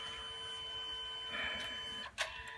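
A photo printer runs through a print from a Surface Pro 3, giving a steady mechanical whir with faint tonal hums and a brief clunk near the end, quiet and alone.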